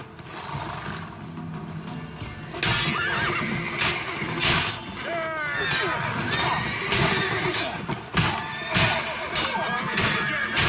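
Roach, the horse in The Witcher 3 game, whinnies several times amid clip-clopping hooves and scattered crashing clinks of breaking objects, loud and close with busy game sounds behind.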